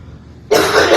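A single sharp cough in an old county jail, sudden and close after near silence, loud and harsh.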